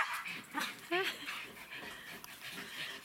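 A dog whimpers with a short, rising whine near the middle, amid panting and restless movement from a household of five dogs and a cat; the sounds stay fairly close and moderately quiet.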